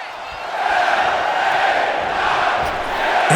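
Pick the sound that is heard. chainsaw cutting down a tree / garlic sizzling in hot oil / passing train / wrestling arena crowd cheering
wrestling arena crowd cheering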